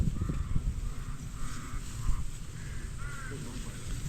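A crow caws repeatedly, about five or six short calls at fairly regular intervals, over low rustling and background noise at a sweet potato harvest field.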